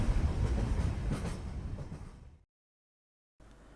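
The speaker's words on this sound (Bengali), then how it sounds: "ট্রেন স্টেশনে এসে থামল।" Rumbling train noise with rattling wheels fades down as the train slows, followed by a sudden silence and then a low hum.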